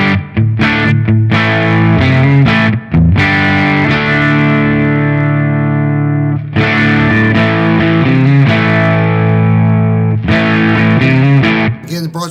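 Electric guitar played through the Bogner Shiver amp model on a Hotone Ampero Mini with the gain turned up: loud, sustained distorted chords and ringing notes, with a few brief pauses and restrikes, and no talking.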